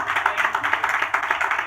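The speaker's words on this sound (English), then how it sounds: "I think we deserve a round of applause." Brief burst of audience clapping at a university innovation showcase, rapid pulsing claps from a small group, close and fairly loud for under two seconds.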